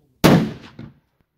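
A single loud, sharp rifle shot from a Mossberg chambered in 7mm PRC, fired nearby outdoors, with an immediate blast and a short rumbling echo tailing off in under a second.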